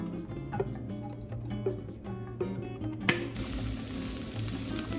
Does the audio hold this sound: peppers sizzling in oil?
yes